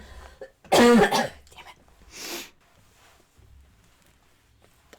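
One person lets out a single hard cough, then a short throat-clearing rasp a moment later. Quiet breathing and near silence follow.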